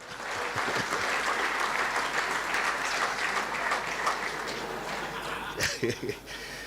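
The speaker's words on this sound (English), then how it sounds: "Another round of applause for Marcus Miller" An audience at a Western Province Rugby Football Union awards evening applauds an honoree, a full, sustained burst of clapping that thins toward the end as a voice and a few louder claps come through.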